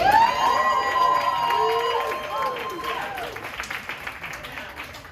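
Applause and cheering from a late-night crowd at a live competition event, starting with a sustained sung or whooping tone over the clapping, then fading into scattered claps and crowd noise.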